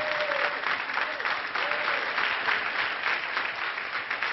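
Sustained studio audience applause on a French television talk show, dense and steady clapping from a large crowd throughout, with a faint whistle or cheer briefly rising above it.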